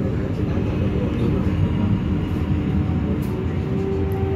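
Kereta Negara passenger train on the Purwokerto–Malang line running, a loud steady low rumble and roar of wheels and engine, continuous and close.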